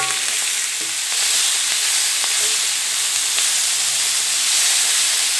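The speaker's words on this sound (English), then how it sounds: "I'm just going to cook this till these start to get a little bit brown. I would say medium heat." Jambalaya ingredients fry in a pot over medium heat, giving a steady, close sizzle with a few faint clinks of stirring throughout.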